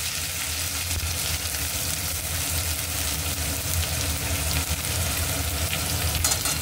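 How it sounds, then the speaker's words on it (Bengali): Ground cumin paste stirred and fried in a little oil for a Bengali banana-flower curry, a steady close sizzle with faint stirring scrapes and no voices. "এবার আমি একটু জিরেটা অল্প তেলে নেড়ে নেব।"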